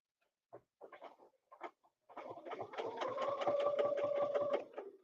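An embroidery machine stitches a design in a steady run of rapid, rhythmic mechanical clatter. A few separate short taps come first, and the run then continues at close range.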